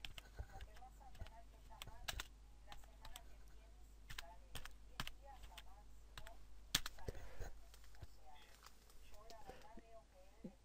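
Computer keyboard typing, with irregular bursts of clicky keystrokes and occasional louder taps, close and fairly quiet; a keyboard whose P key sometimes sticks.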